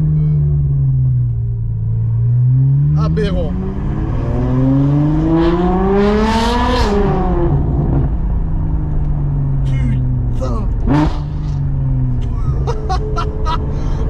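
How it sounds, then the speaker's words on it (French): A heavily modified, extremely loud car engine revs hard, climbing to a screaming peak and falling back, then blips again in short bursts. Excited voices, swearing and laughter sound close over it. "ça fait un bruit de Formule 1"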